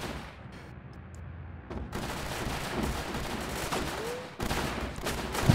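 Gunfire from the tower defense video game Northend rattles in dense, sustained bursts after a quieter opening, with a sharp boom near the end.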